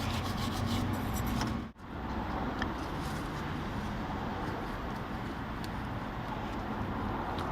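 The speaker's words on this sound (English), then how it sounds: "So let's clean any dirt off around there so it doesn't fall in." Steady rubbing and scrubbing close up as dirt is cleaned from around the rubber oil-filler bung on top of a Daihatsu Cuore Avanzato TR-XX transfer box, continuous with a brief pause early on.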